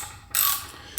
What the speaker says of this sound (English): you can then put your 5/16 Allen socket in there, and you'll be able to crack this thing loose.